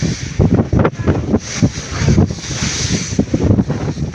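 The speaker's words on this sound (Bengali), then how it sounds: "সেই ঢেউগুলো ওভার করছে" High waves crash and surge around a passenger launch boat on a rough river crossing near Monpura island, with heavy wind buffeting the microphone and repeated loud splashes throughout, no voices.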